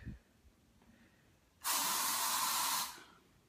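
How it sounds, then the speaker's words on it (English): A can of Raid insecticide sprays at a bug in Australia, one steady loud hiss lasting just over a second after a quiet stretch, then cutting off. "I'm spraying him from a distance."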